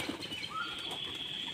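A single male Madras pigeon giving a brief flutter of wings with a faint soft call, close but quiet over a hushed background.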